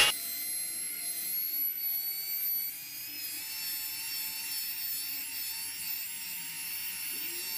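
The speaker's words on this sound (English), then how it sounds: "most of the time I've got a little tilt to my buffer as I'm moving" Steady high-pitched whine of a buffer polishing clear coat on a car panel, droning continuously with a slight dip partway, close and alone without speech.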